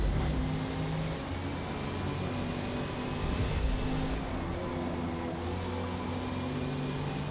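Race cars in a Forza Motorsport multiclass race, including a 1967 Corvette, drone with steady engine tones and shifting harmonics, loud and continuous throughout, with no talk over them.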